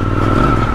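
A Triumph Scrambler 1200 XE motorcycle's rear wheel spins on wet manhole covers, a loud, close, brief burst of engine roar and tire squeal.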